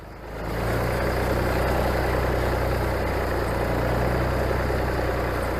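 A Massey Ferguson MF 135 tractor's engine idles with a steady, low, throbbing rumble, fading in over the first second and then holding constant and close.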